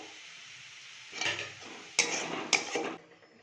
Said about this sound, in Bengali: এবার এই সমস্ত জিনিসগুলোকে একসাথে ভালো করে মিশিয়ে ভালো করে কষিয়ে নিতে হবে